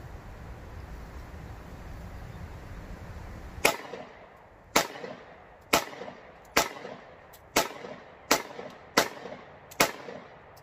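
Shots from a Bersa BP9CC 9mm compact pistol at a range, eight sharp cracks spaced about a second apart, each ringing briefly, after a stretch of low background noise.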